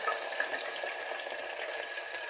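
Chopped ivy gourd sizzles in a hot pan with no water added, giving a steady, close hiss of frying that does not break throughout.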